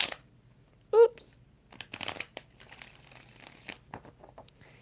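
Tarot cards are shuffled by hand in quick crinkling, riffling bursts, close and crisp, after a brief spoken exclamation.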